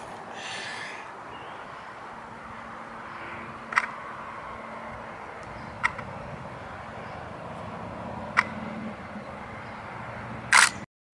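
Four sharp clicks of a Nikon camera shutter firing at a slow 1/50 second at f22, spaced a couple of seconds apart over a quiet background hiss, the last one loudest.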